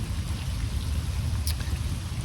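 Steady rain falls outdoors on a rainy day, a continuous soft hiss of drops pattering on surfaces close by, with no voices over it.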